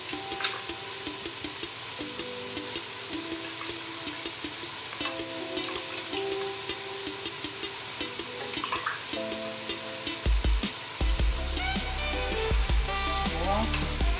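Tender pressure-cooked beef is added to a pot for Filipino beef sinigang, with a moderate sizzle and splashy clatter of meat and liquid, clinks of utensils, and a louder rush of liquid toward the end.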